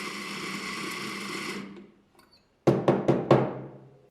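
An Eureka Mignon Specialita espresso grinder grinds coffee with a steady, moderate motor whir for about a second and a half, then stops, followed by four sharp knocks in quick succession.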